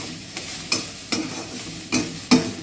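Onions frying in a kadai with a pinch of salt, for water spinach with red lentils: a steady soft sizzle broken by several sharp stirring scrapes at irregular intervals, close and moderately loud, no voices.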